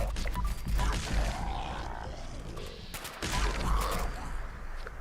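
A weapon fires in Fallout 76 in two heavy bursts of rapid shots, separated by a quieter stretch of rumbling game ambience.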